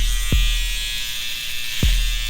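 An electric hair trimmer buzzes steadily up close while cutting hair, a constant bright hum broken by two brief low thumps, with no talking.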